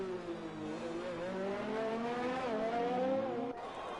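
An AlphaTauri Formula 1 car screams through its engine rev range in a racing video game, a single close, rising and falling high-pitched whine with a gear shift near the end.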